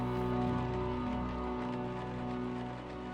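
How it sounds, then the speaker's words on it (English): Rain streaks down a window in the game Unavowed, a soft patter over a sustained tonal music bed, brief and steady with no speech. "Rain streaks down the window."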